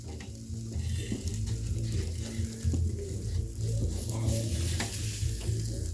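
A steak seasoned for chimichurri sizzles steadily in hot fat as a spatula lifts and turns it, with scraping touches over a constant frying hiss and a low background hum, with no one talking.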